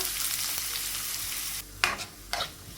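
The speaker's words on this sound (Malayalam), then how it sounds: "ഇതിലേക്കൊരു മൂന്ന് മീഡിയം സൈസിലുള്ള സവാള ചെറുതായി കട്ട് ചെയ്തിട്ട് കൊടുക്കുക" Chopped onions sauté with cloves and cinnamon in a hot pan, first as a steady sizzle, then after a pause as two brief bursts of louder frying and stirring.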